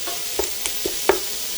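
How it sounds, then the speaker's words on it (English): Pork butt sears in achiote oil with a steady faint sizzle, broken by four or five short stirring scrapes and clatters spaced across a couple of seconds, no voices. "Now we're gonna sear this pork."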